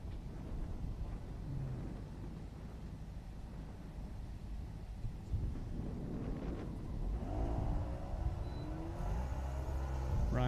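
A novice-class Mazda Miata accelerating through an autocross run at a county fairgrounds, its engine rising steadily in pitch and growing louder toward the end under constant wind rush.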